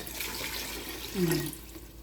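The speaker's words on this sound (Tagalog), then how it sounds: "Pagkatapos pong mag-isa, lagyan na po natin ng tubig." Water pours into a pot of beef and offal for papaitan, a brief splashing surge near the middle over a quiet kitchen hiss.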